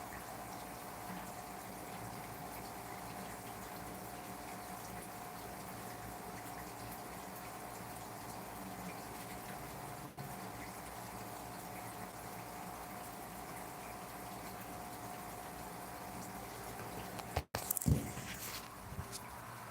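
A steady low rush of water being pumped during an aquarium water change runs continuously at a moderate level, with a brief clunk and splash near the end.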